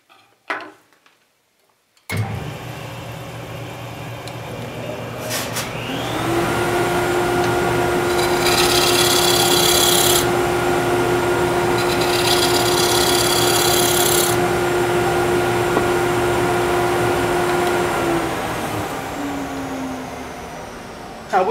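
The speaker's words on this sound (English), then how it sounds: "what you just saw me doing there was using the square-ended scraper to round that curve" Square-ended scraper cutting a curve on a wooden rosette turning on a lathe, a steady rasping scrape with a faint motor hum, starting after a brief quiet opening and continuing close and even for most of the span.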